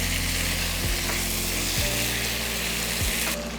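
Chicken for murg chatniwale sizzles steadily and loudly in a pan while being cooked down, with a few soft scraping stirs breaking through the continuous frying hiss.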